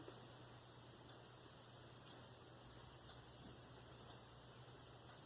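Steady, rhythmic rasping as something is rubbed back and forth across the unfinished side of a Black Arkansas sharpening stone, each stroke a gritty scrape of even tempo.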